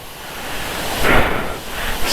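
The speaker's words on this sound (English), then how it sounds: "because the water is overflowing, it gives the feeling that it's a waterfall" Water spilling over a reservoir at Sirnapalli in Nizamabad pours down like a waterfall, a steady, dense roar of rushing water that swells slightly midway, with no voices.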